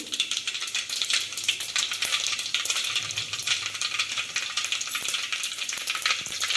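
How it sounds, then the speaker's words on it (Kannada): Mustard seeds and cumin crackling in hot oil for a soup, a dense close sizzle full of rapid tiny pops and ticks that keeps going steadily throughout. "ಎಣ್ಣೆ ಕಾದ್ಮೇಲೆ ಇದಕ್ಕೆ ಸಾಸಿವೆ ಜೀರಿಗೆ"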